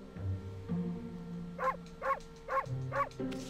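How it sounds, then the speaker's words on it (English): A wolf barks in the Okami video game, four short evenly spaced yaps over a low, steady game background tone. "Let's go bark at him."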